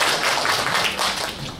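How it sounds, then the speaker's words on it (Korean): Audience applause at a seminar on a Paleolithic archaeological site, a brief, dense patter of clapping that fades slightly toward the end, with no talking. "다시 한번 큰 박수 부탁드립니다"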